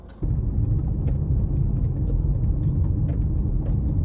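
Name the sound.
mud flinging off car tires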